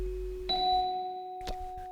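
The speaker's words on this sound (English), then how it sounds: "I think I'm doubling the tubular bells here" Tubular bells doubling an old-style bass line in a pitched percussion piece: a struck metallic tone enters about halfway and rings on, sustained and bright, over a steady low held note, with a second softer strike near the end.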